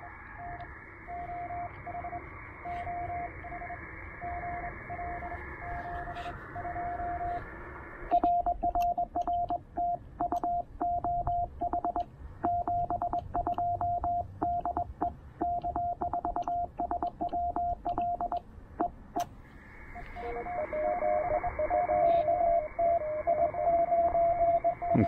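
Morse code CW signals come through a ham radio receiver at a portable park station, steady beeping tones over hiss, with a stretch of rapid choppy keying and static crashes in the middle before the clean tone returns.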